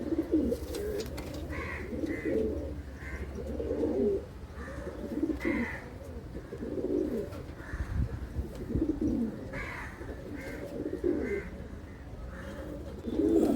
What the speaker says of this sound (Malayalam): ഇത് പെടപ്രാവ്